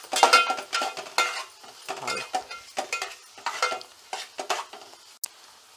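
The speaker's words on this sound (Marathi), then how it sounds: "आता ही फोडणी चांगली मिक्स करून घेऊयात" A tempering of Kolhapuri ghati masala, turmeric and garam masala for raw banana bhaji is stirred in a pan: close, rhythmic spatula scrapes in quick repeated strokes over a light sizzle, with one sharp clink near the end.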